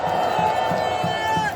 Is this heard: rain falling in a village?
no